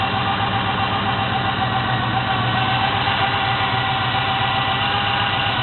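A small block Chevy 350 V8 with FiTech EFI idles steadily after a cold start, a loud, even, close rumble with no breaks for the whole stretch.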